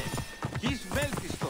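Rhythmic horse hoofbeats clopping along at a steady gallop in Assassin's Creed Origins, mixed with game sound effects and someone talking over them.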